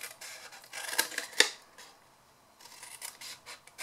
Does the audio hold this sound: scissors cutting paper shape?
yes